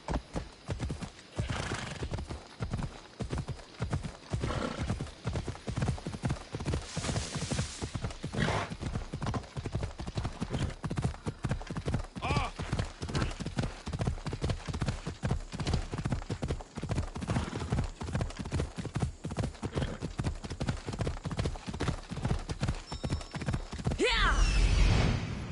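Horse hooves clip-clop in a steady galloping rhythm with occasional neighs in Assassin's Creed Odyssey, loud and close throughout, with a louder burst near the end.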